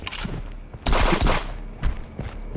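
Bursts of gunfire in a multiplayer shooter game, several sharp loud volleys with a dense cluster near the middle and a shorter burst after, no talk over them.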